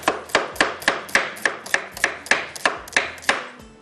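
A knife slicing potatoes very thinly on a board for aloo ki tahari, about a dozen crisp, evenly spaced chopping strikes in a steady rhythm, close and clear with no talk.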